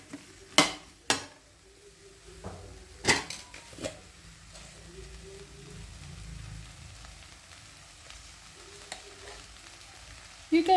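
Okra (ladies' finger) and chopped tomato frying in a pan, a low steady sizzle broken by a few sharp clinks of a spoon stirring against the pan.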